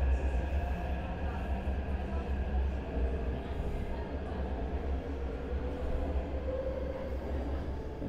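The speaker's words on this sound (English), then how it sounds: "And there goes the train." Taipei Metro MRT train passing through a station, a heavy continuous rumble and low roar of the cars moving along the track, steady and fairly close, with station ambience and a faint squeal near the end.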